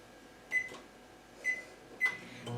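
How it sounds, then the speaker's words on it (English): A home kitchen microwave oven sounds three short, clear electronic beeps spaced apart over a faint quiet background. "Let me just put my microwave on for"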